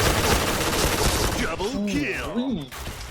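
Pink Dragon gun firing rapidly in the shooter game Point Blank, a dense, fast run of shots for the first second and a half, then a voice talking over fading game sounds.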